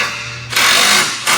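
A tool tightens bolts on a Toyota Tundra front bumper with two close, loud bursts of mechanical whirring, the second one shorter.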